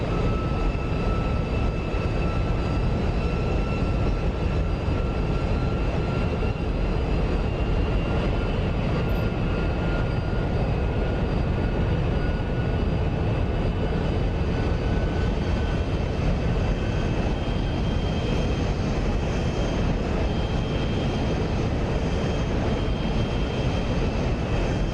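SR-71 jet engines with afterburners lit in the DCS flight simulator, a loud steady roar with high whining tones, holding for the whole stretch at around 500 knots.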